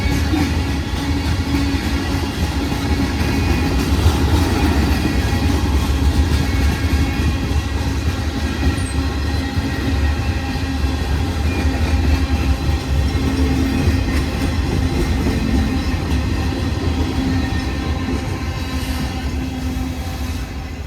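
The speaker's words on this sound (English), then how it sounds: "This eastbound train usually comes through around 6:20 in the morning with all kinds of different freight cars." An eastbound freight train of mixed cars rolls past close by in the early morning for the whole stretch, a steady loud rumble of rail cars with faint clattering wheels and no pauses.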